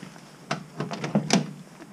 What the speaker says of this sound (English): This door opens and closes really nice.